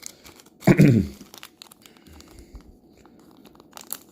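A plastic bag holding Star Wars: Legion upgrade cards is torn open with one sharp crinkling rip, followed by faint rustling handling sounds.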